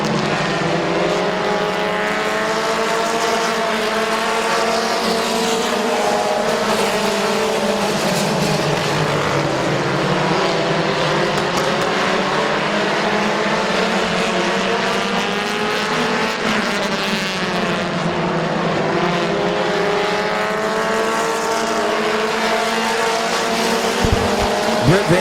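Race cars circling Midvale Speedway, with a continuous loud engine roar of several cars whose pitch rises and falls as they pass through the turns, steady throughout without a break.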